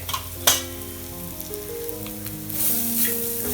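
Spice masala of coriander, chilli and turmeric powders stirred and frying in a pan for Kerala stingray fish curry, a close steady sizzle with sharp spoon knocks and scraping.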